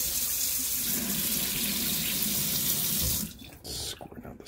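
A freshly repaired kitchen faucet runs at strong pressure, a loud, steady rushing stream that cuts off abruptly near the end, leaving brief drips and splashes.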